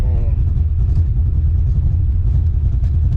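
A tuned street car running nitrous holds a loud, steady engine roar with a low rumbling drone throughout, close and constant, with no distinct rise in revs.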